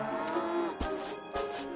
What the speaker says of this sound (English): Look, we have Cow and the calves here having food.